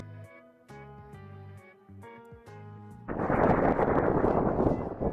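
A thunderstrike effect from the Lured In video game erupts midway as a loud, rumbling crackling burst with no rain, following a stretch of tonal game music.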